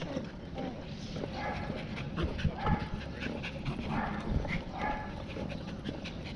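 A dog pants rapidly and whimpers close by on an outdoor walk near cherry trees at a Japanese air base. The panting is steady and breathy with occasional whines, and people speak in the background.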